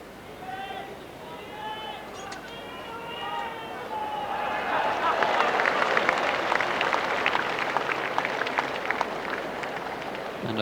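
Applause from a neighbouring match drifts across at the 1984 World Lawn Bowls Singles Final, with distant, steady clapping that swells midway and runs under a commentator's voice.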